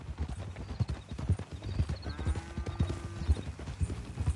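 Horse hooves clip-clop in a steady, close rhythm on a Red Dead Redemption 2 ranch, with a brief whinny partway through and faint background sounds.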